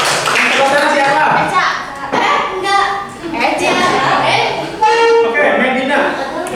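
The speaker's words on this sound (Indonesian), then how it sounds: "Tepuk tangan siapa?" A group of schoolchildren in an Indonesian classroom clap their hands in a rhythmic pattern, the claps mixed with chanting voices and steady talk throughout.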